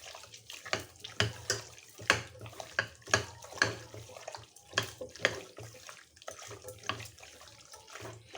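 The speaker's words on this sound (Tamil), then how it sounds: "ரெண்டு டம்ளர் தண்ணி ஊற்றிட்டோம்" Two tumblers of water are poured into a pot of salted mutton for biryani, about to be pressure-cooked; uneven splashing bursts and trickles run steadily, close by, with no talking.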